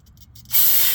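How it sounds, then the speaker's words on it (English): A spray can of cleaner lets out one sudden, steady hiss that starts halfway through and holds loud and close to the end, with a few soft taps before it. "Spray cleaner."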